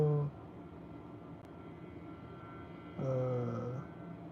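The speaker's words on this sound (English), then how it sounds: "Mosquito spray truck?" A mosquito spray truck engine passing outside a window, a low droning hum that swells louder for a moment near the end, with no talk over it.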